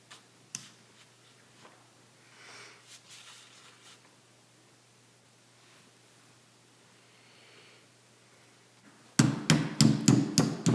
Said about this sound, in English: A couple of taps with a hammer to seat the pin.